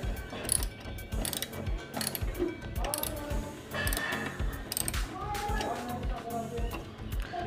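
A ratchet tightens a bolt on a saddle stay being fitted to a Yamaha MT-15 motorcycle, with repeated quick pawl clicks in bursts and metallic handling noise close by.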